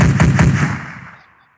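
Rapid automatic gunfire from a Call of Duty video game, a short loud burst of several quick shots that trails off into a fading echo, with no talking.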